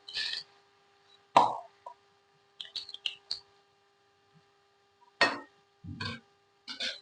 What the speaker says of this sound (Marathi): आता म्हणजे कारला आहे ते थोडं थोडं करून सोडायचं